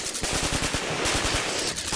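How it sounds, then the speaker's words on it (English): Automatic gunfire crackles in rapid, dense bursts of shots, loud and close, continuing without pause for the whole stretch with no voices. "No! Stop shooting!"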